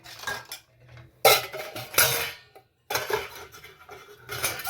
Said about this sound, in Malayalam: നമ്മൾ പാത്രങ്ങളൊക്കെ ഇവിടുന്ന് കൊണ്ടുപോയിട്ട് കഴുകാനുള്ളതിന് നമ്മൾ എടുത്ത് വയ്ക്കണം.